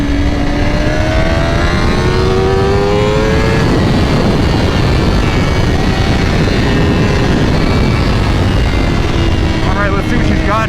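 A 2025 Honda CBR1000RR-R SP sport motorcycle engine revs and climbs through the gears under hard acceleration, its pitch rising steadily in loud, close sweeps under constant wind roar.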